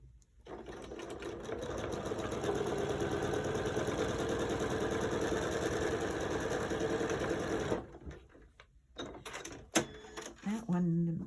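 Close and loud, a sewing machine stitches strips onto a log cabin quilt block with 2 3/8-inch strips, running steadily for about seven seconds before stopping. Fabric handling and a voice follow.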